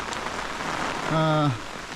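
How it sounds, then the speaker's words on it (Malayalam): Rain falls steadily with a soft, even patter near a forest check post at Vallakkadavu, Idukki, and a single short tonal squeak or call briefly rises above it. "നല്ല മഴ നോക്കി ഇത്ര നേരം മഴയൊന്നും ഇല്ലായിരുന്നു"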